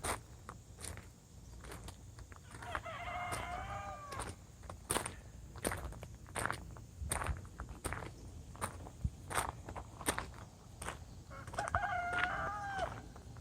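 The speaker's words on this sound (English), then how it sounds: "This is the first time that I've heard these roosters back here crow." Roosters crow twice, moderately distant, over a background of steady footsteps crunching along.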